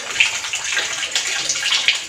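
Water pours steadily from a spring-fed spout believed to have healing properties, a close, continuous splashing and trickling stream with no voices.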